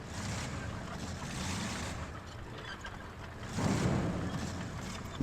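Truck pushing into deep water in RoadCraft: a continuous broad wash of churning water and engine rumble that swells louder partway through, with no voices.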